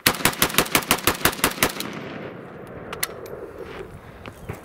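An AK-47 rifle fires ten rapid rounds from a Korean magazine, each sharp loud crack in a steady burst lasting about two seconds, followed by a fading echo and quiet outdoor ambience.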